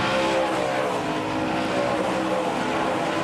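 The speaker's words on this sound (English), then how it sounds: "you can hear how sharp that corner is with those tires squalling over the engines" NASCAR Craftsman Truck Series race trucks at Mid-Ohio on a dry track squeal their tires through a sharp corner, buried in a loud, continuous roar of engines.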